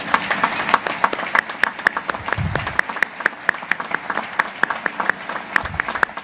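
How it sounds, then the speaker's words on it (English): Applause from an audience at a US Navy JAG change-of-command and retirement ceremony, with many distinct hand claps forming a steady, moderately loud round that continues for several seconds without talk. "How about a hand of applause, please?"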